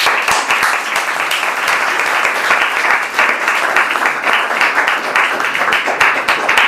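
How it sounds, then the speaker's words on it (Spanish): Loud, close audience applause at an arts gathering, a dense and continuous burst of many clapping hands lasting several seconds. "Un aplauso."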